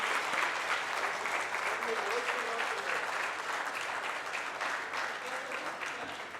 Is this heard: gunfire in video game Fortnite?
no